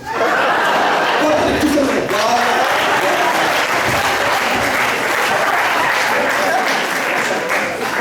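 Loud, sustained audience applause fills the whole stretch, a dense wash of clapping from a live crowd at a French-language talk, with scattered chuckles and laughter mixed in.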